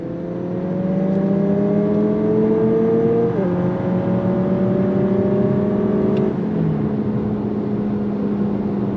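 A 2022 Lexus UX 250h hybrid SUV with a CVT accelerates onto a highway, its engine droning in rising tones from inside the cabin, steady and fairly loud, with two brief shifts in pitch partway through.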